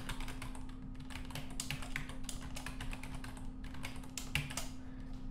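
Rapid clicking keystrokes on a computer keyboard come in quick bursts as a password is typed, close and clear over a steady low electrical hum.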